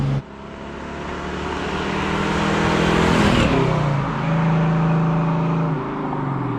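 A 1971 Chevrolet Camaro SS 396 engine with a 4-speed revs loudly and climbs in pitch, drops briefly during a shift into third, then pulls strongly again with a steady, throaty drone.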